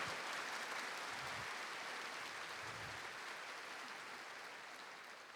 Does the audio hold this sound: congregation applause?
yes